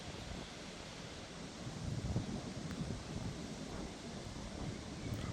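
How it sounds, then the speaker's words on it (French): Gusty wind during a thunderstorm in Isère, a steady broadband rush with swelling gusts, captured as close microphone buffeting, with no talking. "Oh le vent qui est là-bas derrière"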